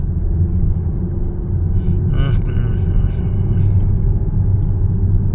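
An oncoming car on a narrow mountain road gives a steady, close low engine rumble throughout, with brief muffled voices from inside the listening vehicle partway through.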